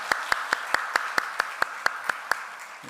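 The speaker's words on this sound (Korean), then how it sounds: "우리 윤주 자매에게 우리 한번 큰 박수로 한번 축복하고 격려합니다" A church congregation claps for a high-school girl who led the youth worship service, producing about a dozen evenly spaced, crisp claps in a steady rhythm over a soft background.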